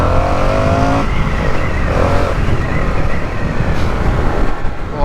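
Engine of a 2023 Indian FTR R Carbon motorcycle accelerating hard, a loud rising roar through a gear change with rushing wind, continuous and close.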